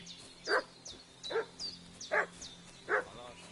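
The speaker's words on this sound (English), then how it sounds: "What's that dog making such a fuss about?" A dog barking in the medieval video game Kingdom Come: Deliverance 2, four evenly spaced single barks at moderate distance, with light ambient game sounds between them.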